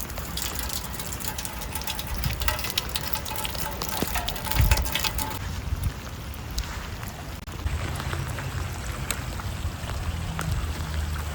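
Steady rain falling outdoors during a February thaw, with a continuous broadband wash of drops and running water, loud and close, holding even across the whole stretch with no voices.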